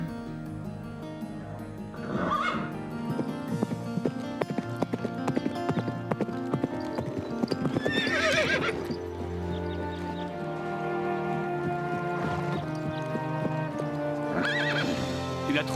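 Horses on a farm neigh and whinny several times over steady clip-clopping hooves, with the calls rising above a continuous background of music.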